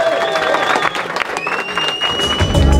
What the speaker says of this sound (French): je vous demande de l'applaudir bien fort